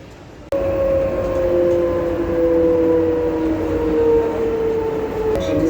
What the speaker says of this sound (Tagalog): Nakasakay din ng MRT dito sa Kuwait Airport.